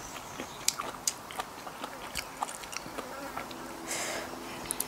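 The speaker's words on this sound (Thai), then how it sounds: "ไปไกลๆเลยเด้อแมลงวันเด้อ" Flies buzz faintly around an outdoor backyard meal, with soft intermittent whines amid crunchy chewing of fresh vegetables and small clicks.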